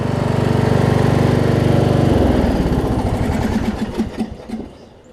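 A Weed Eater AYP riding mower engine runs with a loud, rough throb up close, then slows and sputters as it winds down to a stop.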